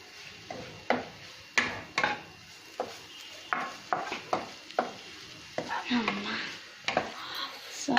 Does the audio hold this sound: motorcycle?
no